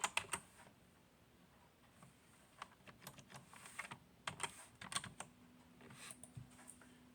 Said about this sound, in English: If you go to Baseball Reference, type in his name, Bob Feller.